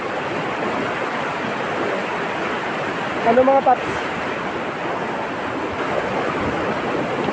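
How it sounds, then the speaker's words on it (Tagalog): Strong rushing water at La Francisca Falls in Cavinti, a steady broadband roar of the current filling the whole stretch, with a brief voice speaking over it midway. "Ang lakas ng agos ng tubig na aray."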